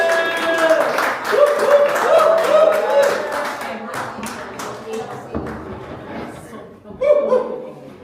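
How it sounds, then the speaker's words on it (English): Audience applause for speakers at a dedication ceremony, scattered clapping mixed with voices and a loud speaking voice over a sound system, fading and then broken by brief sharp taps. "let us welcome a big round of applause"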